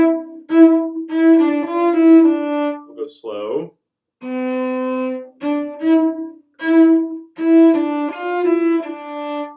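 Violin playing the opening two measures of a Mozart piece in slow, sustained bowed notes with a short pause midway, where a voice briefly speaks.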